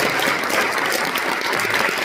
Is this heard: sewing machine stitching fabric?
no